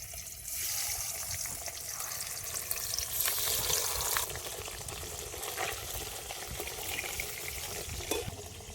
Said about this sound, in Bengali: এবার দ্বিতীয়বার এগুলো ভেজে নেব